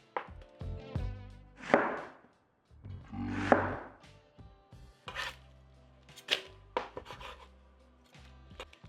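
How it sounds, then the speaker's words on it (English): A knife cuts a red onion in half on a board, with a handful of separate crisp chops and short scraping strokes spaced a few seconds apart against near silence. "1 red onion. Cut this in half."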